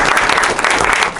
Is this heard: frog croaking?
no